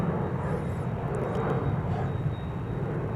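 A Bombardier Challenger 300 business jet roars steadily at an airport, a broad, continuous engine rumble at moderate distance with no voices.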